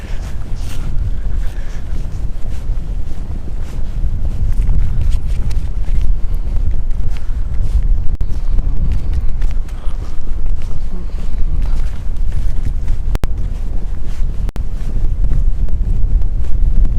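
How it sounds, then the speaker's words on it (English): Strong wind buffets the microphone on a commercial pier at Inch Beach, Ireland, a loud, continuous roar with no letup. "Windy, windy, windy, windy."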